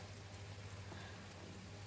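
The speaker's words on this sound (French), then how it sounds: "Il pleut," Steady, faint summer thunderstorm rain hiss with a low constant hum underneath, no voices.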